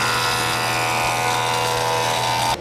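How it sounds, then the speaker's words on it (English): An electric wood planer runs steadily on timber for a screen door in a workshop, a loud, even mechanical whine with a constant low hum that cuts off abruptly at the end. "We're gonna be doing some planing here"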